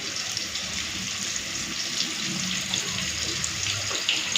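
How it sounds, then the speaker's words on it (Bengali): Tap water runs steadily while onions are rinsed under it, a close, constant splashing gush into a sink with no one speaking. "এখন পেঁয়াজগুলি একটুখানি ধোয়া ধুয়ে করে রেখে দিচ্ছি"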